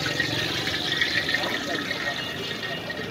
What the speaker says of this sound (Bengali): বেগুনি ভাজবো।